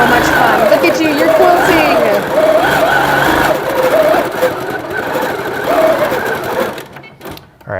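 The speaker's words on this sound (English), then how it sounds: "when you press start, it's going to start sewing a little bit, and then when you move, you see it speeds up" A quilting sewing machine stitches with its fast motor, whirring loudly and steadily up close and speeding up as the fabric moves. People talk and react cheerfully over the machine.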